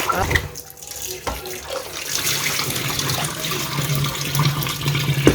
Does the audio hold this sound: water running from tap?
yes